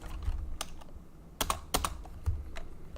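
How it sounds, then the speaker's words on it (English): Rapid, uneven clatter of typing on a computer keyboard, with sharp key clicks scattered across three seconds and a few louder strikes, close and fairly quiet with no voice over it. "Yeah, I'm not very good at typing either."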